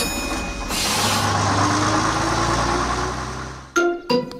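A cartoon bus engine idles and runs with a continuous low rumble, then cuts off near the end, followed by a couple of short bright knocks.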